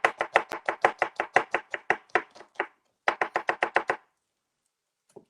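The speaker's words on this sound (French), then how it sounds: "Donc, coupé en deux et émincé finement" Red onion halved and finely sliced with a knife on a board: a rapid, even run of close, crisp chops, a short pause, another quick burst, then one faint tap, with no talking.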